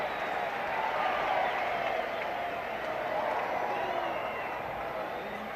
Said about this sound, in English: The reason you're hearing that intermittent roar from the crowd is down behind the screen.